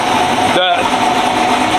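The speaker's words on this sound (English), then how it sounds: "this is the first example that I've really gotten of what the truck's gonna sound like" A cammed 2024 GMC truck on a McGaughys 7-9 lift sits idling with a steady, continuous engine rumble, and people talk over it throughout.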